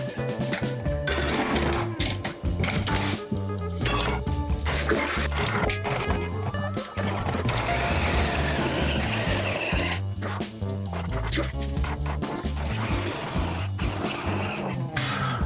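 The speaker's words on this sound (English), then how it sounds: "I'm gonna be using my grating blade." A food processor fitted with a coarse grating blade whirs loudly as food is pushed through it, its motor drone broken by rattling, choppy bursts and brief dips in the noise.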